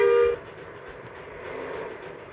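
A train on a railway track, a short horn blast at the start followed by a low steady rumble of passing cars, moderately distant.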